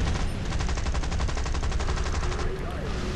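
Rapid automatic gunfire in the War Thunder video game, a dense, loud, continuous stream of evenly spaced shots that holds for about three seconds over low combat rumble.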